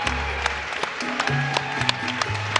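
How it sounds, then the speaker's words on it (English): A fight-night crowd at a flyweight title bout claps for both fighters, scattered sharp claps over a busy arena background with music and a public-address voice sounding through. "massive round of applause for both our combatants in your first ever Hex title fight"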